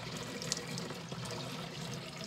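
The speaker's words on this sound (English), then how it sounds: "we just pour water" Warm water pours from a cup into a garden pump sprayer, a steady close splashing and trickling stream that runs without a break.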